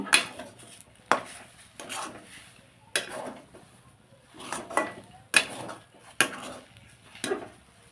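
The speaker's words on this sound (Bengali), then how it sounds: "যতক্ষণ না কড়া থেকে ছেড়ে ছেড়ে আসছে ততক্ষণ এইভাবে নেড়ে নেড়ে আমরা একটা ডো বানিয়ে নেব" Semolina dough is stirred in a kadai, giving sharp spoon-on-metal scrapes and knocks that repeat about once a second, with softer mushy stirring between them.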